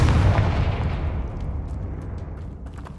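A Confringo fire spell explodes in the video game Hogwarts Legacy, a single heavy booming blast that rumbles and decays over a few seconds.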